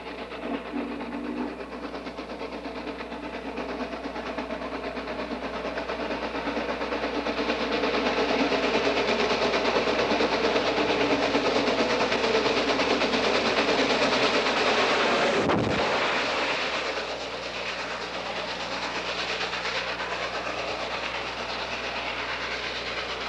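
A Norfolk & Western 611 steam locomotive rumbles steadily along the rails with a continuous loud roar that swells midway, then settles into a steady running drone.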